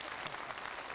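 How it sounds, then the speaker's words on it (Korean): Dense, steady audience applause fills the whole moment at a 1983 KBS televised reunion event for separated families, loud and close with no talking over it. "여러분 축하의 박수 부탁드립니다"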